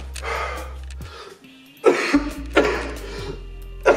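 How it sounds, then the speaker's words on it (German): A sick man coughs and clears his throat several times in short, harsh bursts, close and loud against a quiet background with a low hum. "Die ganze Zeit am Husten wie ein Idiot."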